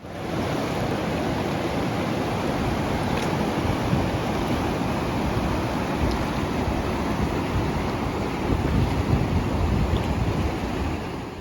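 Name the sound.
flowing water of the Housatonic River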